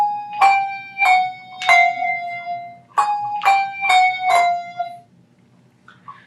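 Handbells struck in a quick series of bright ringing tones, about six strokes in two groups, each cut short as the bell is damped against the shoulder, close and clear with no talk.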